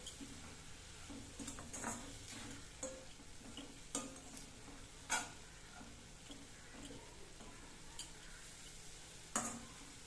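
Banana flower being stirred with a ground paste in a pan for banana flower pachadi, giving soft scraping stir strokes with occasional sharper utensil clicks against the pan, steady and fairly quiet with no talking.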